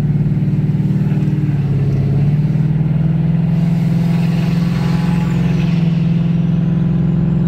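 A 2015 Ford Mustang with a 6R80 automatic transmission, 6F torque converter and upgraded headers pulls away from a stop, its loud, steady low engine drone rising slightly in pitch as it accelerates, heard from inside the car.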